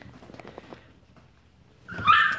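A six-week-old puppy from a litter of four males gives a short, high whimpering cry near the end, after a stretch of soft low shuffling and handling noises.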